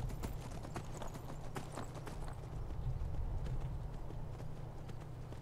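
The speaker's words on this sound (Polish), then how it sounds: "A z tego co wiem, ten koń jest o wiele, wiele lepszy" Hooves of a horse galloping in the Skyrim video game, a steady fast clip-clop rhythm held throughout over a low continuous game background hum, close and alone with no talking.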